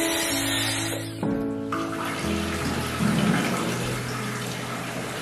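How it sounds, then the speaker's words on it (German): Water runs from a newly installed tap in a house under renovation, a steady rushing flow that shifts in pitch as the tap is adjusted, with plumbing hum and tonal resonances throughout. "Jetzt haben wir überall Wasser und neue Armaturen und Sanitär."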